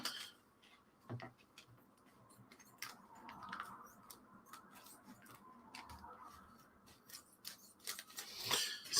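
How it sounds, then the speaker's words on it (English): Faint, scattered snips and small clicks as scissors cut open a sealed plastic package, with quiet crinkling in between. No one speaks. "I'm going to have to use a pair of scissors because it's sealed."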